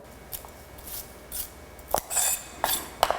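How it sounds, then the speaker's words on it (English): Knife chopping through celery ribs on a cutting board, a few separate crisp chops spaced irregularly, close and fairly quiet with no talk. "I'm going to start by dicing up like 4 or 5, whatever, ribs of celery."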